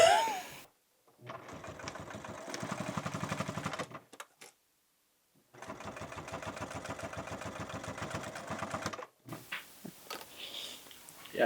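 Sewing machine stitching linked fabric pieces in two long runs of fast, steady mechanical chatter separated by a pause, fairly close, with brief handling noise between runs and at the end.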